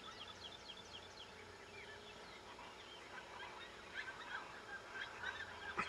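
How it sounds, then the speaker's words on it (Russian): Various birds chirp and call in quick, scattered bursts on the Yucatan, faint and somewhat distant over a low steady background, busier toward the end. "Птички всякие чирикают"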